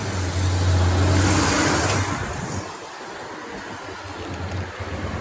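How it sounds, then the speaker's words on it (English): A truck passing by on a road, its engine rumble swelling loud and close in the first two seconds, then fading away into quieter background noise, with no voices heard. "Hold on 1 second, there's a truck."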